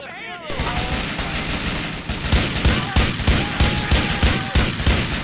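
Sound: gunfire in video game GTA 4 Ballad of Gay Tony

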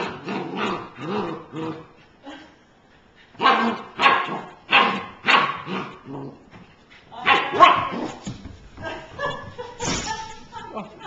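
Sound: dog barking

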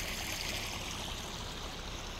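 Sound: flowing water of the Tijuana River channel

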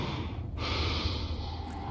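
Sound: creature snorting loudly, from the video game Prey

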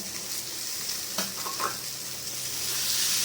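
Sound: prawns being fried and stirred in a pan with potatoes and cauliflower

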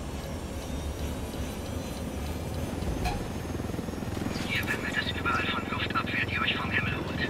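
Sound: helicopter flying in video game Ghost Recon Wildlands

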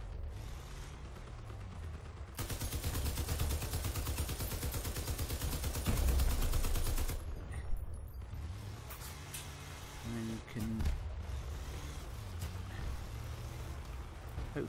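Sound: vehicle guns firing, video game Crossout

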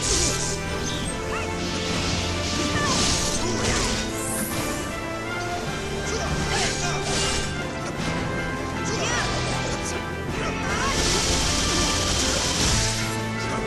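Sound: smashing the core in video game Dissidia Final Fantasy NT

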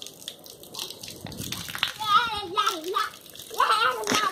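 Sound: water pouring from a spout over a baby

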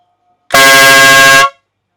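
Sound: air horn blast

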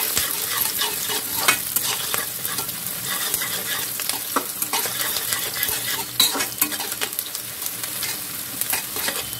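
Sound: onions being stir-fried in a pan for chowmein

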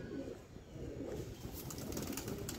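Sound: pigeons

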